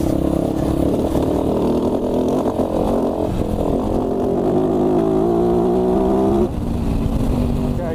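A KTM 450 Dakar rally motorcycle with a fuel-injected engine runs steadily and close, its drone rising in pitch through a long pull before easing off near the end.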